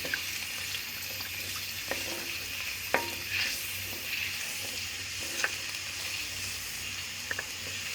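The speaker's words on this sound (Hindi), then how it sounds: "ऑयल में ये लहसुन अदरक डाल के" Gentle sizzling of garlic and ginger frying in oil for beef karahi, with a steady crackling hiss and occasional clinks of a utensil stirring the pan.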